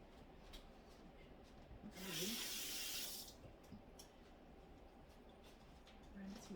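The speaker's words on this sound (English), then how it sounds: "Rinse my sink a little bit." Kitchen tap water runs into a sink for about a second, a loud broadband rush that stands clearly above a quiet room with faint background talk.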